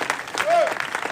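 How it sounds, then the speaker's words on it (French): Audience clapping at a French public event, a short burst of applause building briefly with voices mixed in over it. "On peut l'applaudir, Axel, bien sûr."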